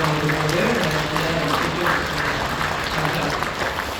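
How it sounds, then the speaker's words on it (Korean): Steady applause from a church congregation during a worship service fills the space, with a voice or sustained tone running underneath. "박수 주십시오"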